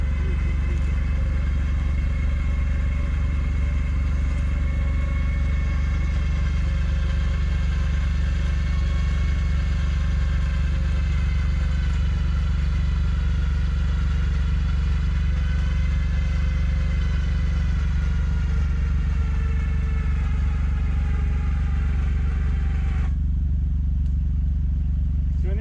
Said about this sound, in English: We were able to use that full pulling capacity of the winch for about 15 minutes or 15 feet